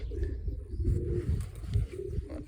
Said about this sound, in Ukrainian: І оці голуби простяки, я на них кажу.